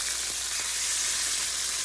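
Butter sizzles steadily in a hot pan while melting for shrimp in garlic sauce, a continuous bright crackling hiss with no voices, close and even throughout.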